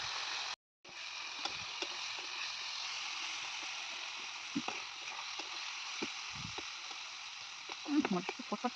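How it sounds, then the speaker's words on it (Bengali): Green tomatoes fry in a wok for a Bengali village-style dish, giving a steady broadband sizzle that runs throughout, with a short dropout near the start and a few soft clinks and stirring knocks near the end. "কাঁচা টমেটোগুলো এখন ভেজে নেব এই যে কড়ার মধ্যে"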